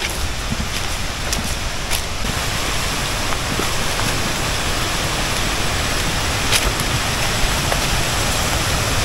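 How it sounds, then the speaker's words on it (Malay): The Dara waterfall near Senawang, Malaysia, gives a constant, loud broadband rush of falling water that stays steady and close throughout, with no talking. "ini bahagian yang kedua air terjun Dara ni"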